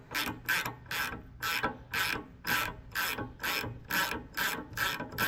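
Ratchet wrench working loose the shock absorber fasteners on a Gleaner R72 combine, giving about eleven even bursts of clicking, close and steady with no talk.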